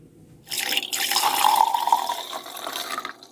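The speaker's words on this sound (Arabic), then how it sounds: "هنبدأ نصفيها." Homemade sobia drink being poured through a strainer, a steady continuous splashing pour of liquid that builds after a quiet start and holds to the end, close and alone.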